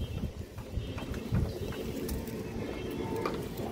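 Giribaz pigeons coo steadily in a close, continuous low murmur that runs throughout, with a few faint higher flutters and no voices.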